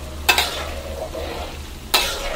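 Battered chicken skin sizzles steadily in hot oil over high heat, with two sharp scraping stirs against the pan near the start and end.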